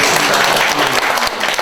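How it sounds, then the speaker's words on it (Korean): Dense audience applause at a Korean community-building network talk session, steady and close for the whole stretch, with no voices over it. "박수 한번"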